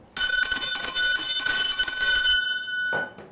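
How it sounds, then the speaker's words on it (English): A bell rings loudly and steadily for a couple of seconds with a sharp metallic tone and rapid strikes, then stops abruptly, followed by a brief faint sound. "Ring the bell."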